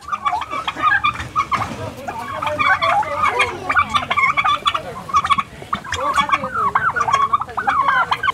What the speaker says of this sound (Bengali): দেখুন এখানে কত টার্কি রয়েছে।